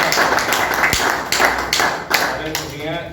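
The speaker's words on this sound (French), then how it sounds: "moi j'aimerais qu'on applaudisse un peu" Audience clapping at an art performance event in Kinshasa, a loose spread of hand claps with a few sharper taps standing out, fairly close and steady across the whole moment.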